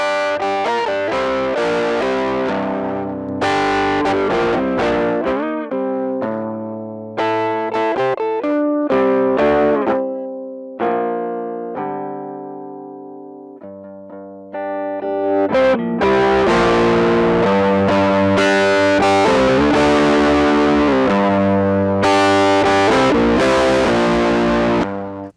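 Loud distorted synth tones from a distortion VST plugin, with a gritty, saturated edge, play in bursts and sustained chords, dropping to quieter passages midway before swelling back.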